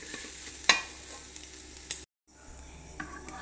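Grated coconut roasting in a pan, a quiet low sizzle broken by a sharp scrape of stirring early on, then a brief dropout before the soft frying sound resumes.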